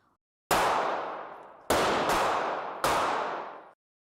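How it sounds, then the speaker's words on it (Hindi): Three loud gunshot sound effects ring out alone, each a sharp crack followed by a long fading echo, the second and third coming in close succession. "जब पहली गोली चली, गुलशन कुमार अपनी कार के दरवाजे को खोलने ही"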